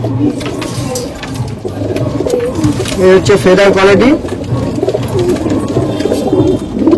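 Malwai pigeon, a large Punjabi breed, cooing in soft repeated phrases at close range, with someone talking over the calls.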